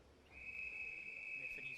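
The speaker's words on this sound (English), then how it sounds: "Referee's long whistle telling the swimmers can enter the water" A referee blows one long, steady, shrill whistle at a Scottish schools swimming championship, held for well over a second, faint against a quiet poolside hall.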